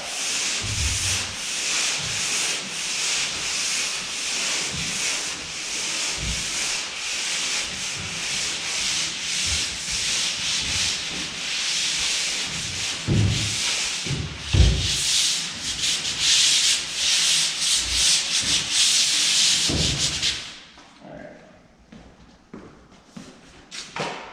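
A sanding block rubs over a small spot of drywall joint compound on a third-coat taped wall, giving steady close scratchy strokes for about twenty seconds before stopping, followed by a few light taps and thumps.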